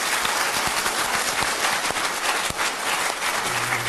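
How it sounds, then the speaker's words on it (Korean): Warm audience applause at a reading gathering welcoming an elderly man back, thick sustained clapping from a crowd filling the whole stretch at a loud, even level. "다시 한번 아버님을 뜨거운 박수로 환영하겠습니다."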